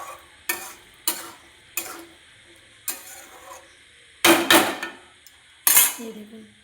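Spoon clattering against a pan while cooked vegetable curry is stirred on a gas stove, a handful of separate sharp scrapes and knocks at uneven intervals, close and fairly loud with quiet gaps between them.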